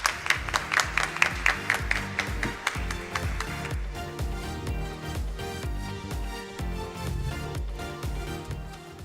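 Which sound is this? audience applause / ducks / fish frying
audience applause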